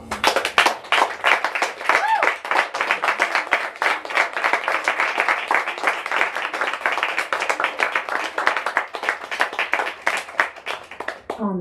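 Audience at a poetry reading for Tawanda Mulalu giving sustained, dense applause, steady clapping from many hands continuing throughout, with a brief whoop early on.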